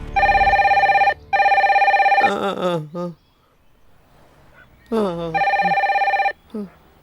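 A telephone bell rings loudly in long repeated bursts, with people talking briefly in the gaps between the rings.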